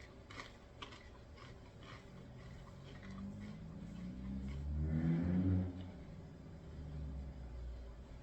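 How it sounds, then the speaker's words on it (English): Car engines rev outside on a road, a muffled rumble that swells to a peak and then fades, heard from indoors under a steady background hiss. "I don't know why they'd be revving their engines out there."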